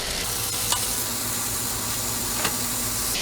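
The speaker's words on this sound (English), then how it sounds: "So my pan's still nice and clean, so we're gonna add in Portuguese sausage." Portuguese sausage sizzles in a hot pan, a steady close crackling hiss with a few soft stirring scrapes and no voices.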